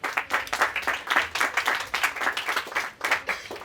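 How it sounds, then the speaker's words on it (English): Applause from an audience at a school Red Cross club handing-over ceremony, thanking the outgoing cabinet: dense, irregular clapping that surges and dips steadily throughout, fairly close and without speech. "So I think we should clap for them."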